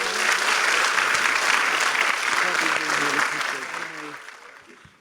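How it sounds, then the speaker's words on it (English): Applause from a university audience welcoming the governor at a campus event in Tennessee, a dense, steady wash of clapping with some crowd voices mixed in that gradually thins and fades out toward the end. "Join me in giving a warm Blue Raider, true blue, round of applause to our great governor."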